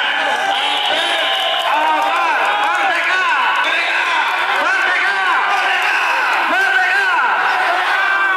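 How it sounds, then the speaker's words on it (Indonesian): A large outdoor crowd at a rally of app-based motorcycle taxi drivers roars continuously with cheering, whoops and scattered clapping, a dense, loud wall of voices throughout. "Tepuk tangan untuk anda semuanya."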